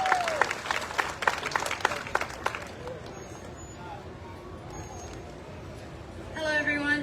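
Clapping from the audience at an apple festival queen presentation rings out for a couple of seconds, then fades into quiet room noise and faint murmuring as someone steps up to speak.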